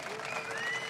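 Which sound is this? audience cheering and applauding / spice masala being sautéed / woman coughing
audience cheering and applauding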